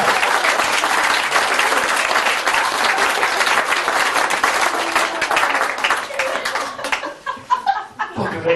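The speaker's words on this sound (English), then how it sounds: "Give them a round of applause" A comedy stage hypnosis show audience gives loud, dense applause mixed with laughter, fading out toward the end as a voice starts to speak.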